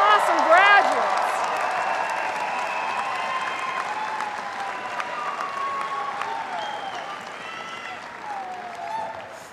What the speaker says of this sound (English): Can I get one more round of applause for these awesome graduates?